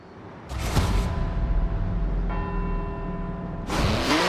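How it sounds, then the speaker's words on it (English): Church bells toll in a synthetic, game-like mix in Edinburgh in Forza Horizon 4, with resonant strikes at the start and end and a sustained ringing hum between them. "let's see if we can visit every bell tower in Edinburgh and get back here before they all stop ringing"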